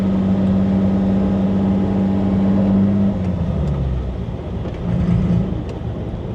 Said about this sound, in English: Still a good sounding motor